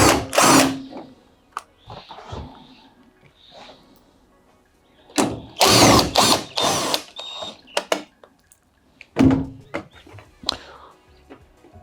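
A power drill spins out the two top panel screws on a Fisher Paykel washing machine in short, loud bursts of whirring separated by pauses, with a few knocks and handling sounds close by.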